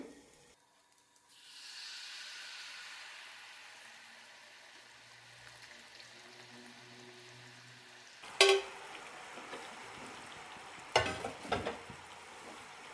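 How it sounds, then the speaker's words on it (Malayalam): Strained jaggery syrup is poured into a hot pan, bringing a soft rising hiss that settles into a low simmer, then sharp clanks and a louder sizzling burst near the end. "ശർക്കരപ്പാനി അരിച്ച ശേഷം പാനിലേക്ക് ഒഴിക്കാം"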